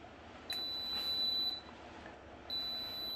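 Two steady high-pitched electronic beeps from an electric pressure cooker starting, one long and one shorter after a pause, over a quiet hum of room noise.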